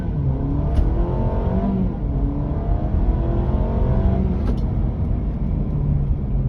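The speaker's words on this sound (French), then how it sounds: "je vais rester appuyé et vous allez voir que le moteur est beaucoup plus souple quand même sur le mode économique" A Honda Civic e:HEV hybrid car accelerating in economy mode, a steady smooth engine and road drone with rising harmonic whine held throughout, heard from inside the cabin with no talking.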